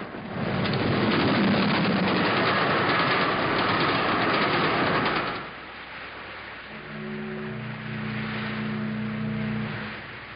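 A train rumbles and clatters loudly along the rails for several seconds, then the noise drops to a quieter hum with steady tonal whining.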